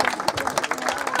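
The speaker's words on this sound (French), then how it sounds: "applaudissez-les encore très fort, s'il vous plaît" Audience clapping after an Astérix and Obélix themed show, a dense, steady patter of many hands close by with no voices rising above it.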